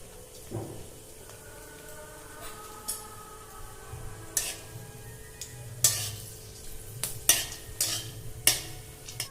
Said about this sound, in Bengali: গোটা গরম মশলাটা 30 থেকে 40 সেকেন্ড মতো একটু ভেজে নিলাম